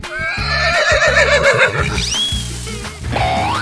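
A horse neighs in a 3D animal video game: a loud, close whinny with a wavering, rising pitch that lasts a few seconds, set over a thumping game-music beat.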